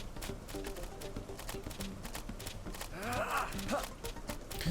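Clip-clopping hooves of a small horse-like unicorn creature in Xenoblade Chronicles X, a steady run of footfalls under game ambience and a brief whinny-like cry near the end.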